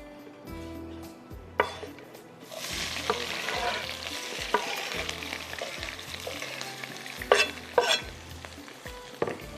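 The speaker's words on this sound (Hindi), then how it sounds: "प्याज को अच्छा सा कलर देंगे" Onions frying in a pan with garam masala and salt for chicken rice, giving a steady sizzle that starts partway in, with scraping stirs and clinks throughout and a faint low hum underneath.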